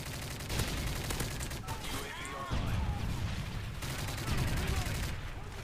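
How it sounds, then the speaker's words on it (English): Rapid automatic gunfire in Modern Warfare 3, fired through a wall, rattles in dense bursts across the whole stretch alongside game explosions and effects, loud and continuous with no one speaking. "I'm gonna just shoot through this wall"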